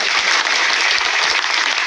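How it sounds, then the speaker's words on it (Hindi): Sustained applause from an audience at a public gathering about teacher hiring, a dense continuous patter of many hands with no talking over it. "इतनी कमजोर तालियों के लिए बेहद शुक्रगुजार हूं आप लोगों का।"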